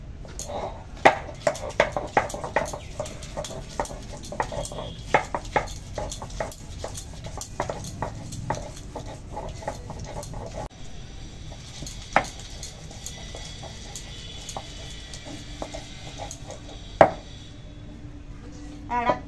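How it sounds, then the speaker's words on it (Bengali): Fresh ginger being ground by hand on a stone for winter khichuri, a steady run of scraping and knocking strokes, fairly close, with clinks of kitchen utensils and a voice talking now and then. "এবারে আদাটা বাটবো।"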